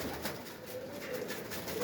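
A pigeon cooing close by in a low, soft, continuous murmur over a dense background of other birds.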